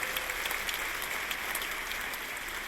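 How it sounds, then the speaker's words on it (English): Faculty convocation audience applauding, a full hall of steady, even clapping that carries on throughout with no voices over it. "let's give him a round of applause."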